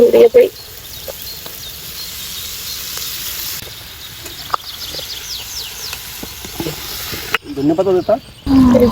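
Onions and tomatoes sizzle steadily in a pan on an outdoor clay stove, a soft continuous frying hiss with occasional stirring clicks, and someone speaks briefly at the start and end.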